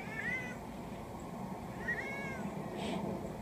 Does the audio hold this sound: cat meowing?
yes